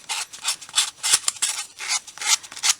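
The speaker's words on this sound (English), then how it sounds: "So we'll use some sandpaper block thing just to kind of smooth these out." A sandpaper block is rubbed over small wooden pieces for a miniature quilt rack, producing close, rhythmic rasping strokes in quick back-and-forth bursts with short pauses between them.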